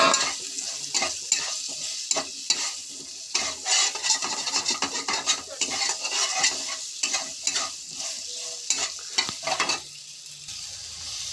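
Mango pieces seasoned with turmeric and salt fry in a pan, giving a steady close sizzle broken by repeated scraping stirs and clinks of the spatula against the metal, with no talking.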